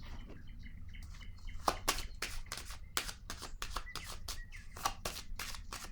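Tarot cards being shuffled and laid down in a quiet room, with a run of crisp, rapid riffling bursts and soft slaps repeating over several seconds, close and fairly faint.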